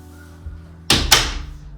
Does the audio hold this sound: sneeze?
no